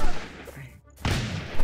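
Chaotic battle noise from Totally Accurate Battle Simulator, with dense gunfire and explosive bursts, a brief lull, then another loud volley of the same clamor.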